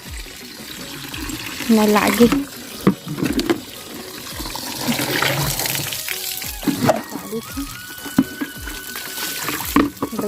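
Water running from a tap into a bucket for cattle, a splashing, gurgling stream heard close with irregular bursts and clatters, while someone talks over it.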